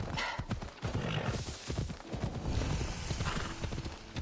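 Horse hooves clip-clopping at a steady trot in Assassin's Creed Odyssey, with a neigh and snorting breaths mixed in, close and fairly loud over a dense outdoor ambience.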